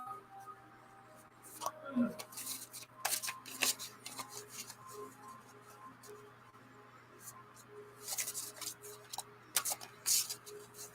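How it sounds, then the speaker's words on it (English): Tarot cards being shuffled by hand in a quiet room, soft riffling and tapping bursts in irregular clusters, close but faint, with low murmuring voices in the background. "Just some shuffling here."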